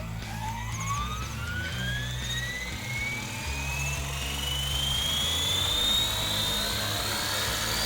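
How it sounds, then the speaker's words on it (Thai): An RC UH-1 Army 450-size model helicopter spins up its rotor, a whining electric motor pitch climbing steadily over a continuous chopping buzz, heard close and fairly loud without speech. "รอให้ใบพัดหมุนสุดเสียงก่อนนะครับ"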